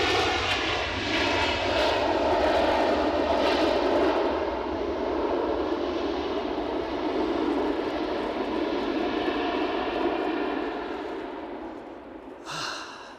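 An Airbus A319 flies near Edinburgh Airport, its engine roar loud and close, a sustained, steady rush with a faint tonal whine that slowly eases over about thirteen seconds.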